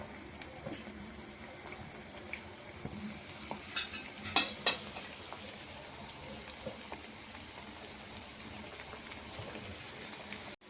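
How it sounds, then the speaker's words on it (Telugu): Cauliflower pieces for gobi 65 fry in a pan with a faint, steady sizzle, broken by a few light stirring scrapes and clinks near the middle. "ఇలా మంచిగా క్రిస్పీగా అయ్యే వరకు బాగా మంచి ఫ్రై చేసుకోవాలండి"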